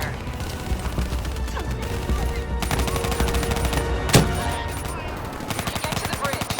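Heavy gunfire in Call of Duty: Black Ops III laying down cover fire, dense rapid bursts of shots going on nonstop, loud and close, with a sharp louder crack partway through.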